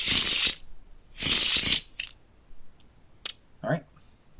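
Cards from the Quests of Shadowgate board game are shuffled in two quick riffling bursts, followed by a few light clicks and taps of cards being handled, close up at a table.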